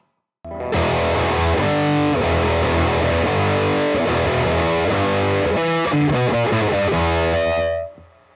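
A distorted electric guitar chugs through a riff, loud driving power chords with a quick run near the end before ringing out and cutting off.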